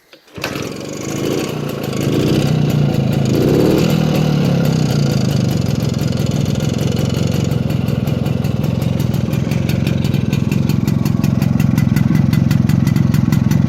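The engine of a 1953 Jawa Perak 250 Type 11 motorcycle starts and settles into a steady, loud idle, chugging evenly and close by for a long stretch with no one speaking.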